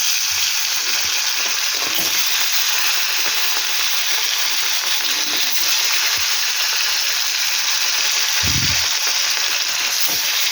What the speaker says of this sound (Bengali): এবার আমি এক এক মাছগুলো ছেড়ে দেবো তেলের মধ্যে